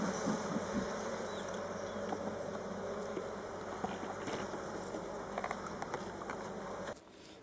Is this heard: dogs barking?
no